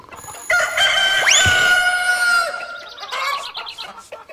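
Chickens in a farmyard scene from the adventure game Polda 6, with loud, close rising crow-like calls and clucking squawks over about four seconds, no talking.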